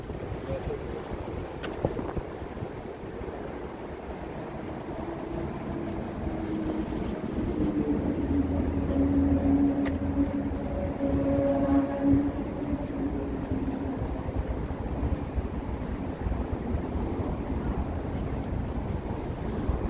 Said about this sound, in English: That's a Long Island Railroad train depot is behind this fence.